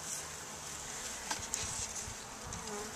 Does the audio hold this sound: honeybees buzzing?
yes